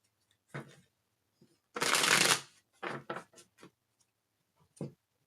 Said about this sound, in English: I'll shuffle, tell us more about this Emperor.